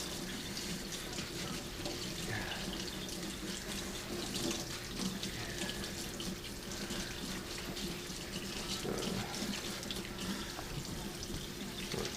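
Steady stream of cold tap water running into a sink while potatoes are washed, continuous and close, with faint handling noises underneath.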